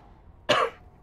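A single short, sharp cough from someone fighting a cold, close and clear against a quiet background.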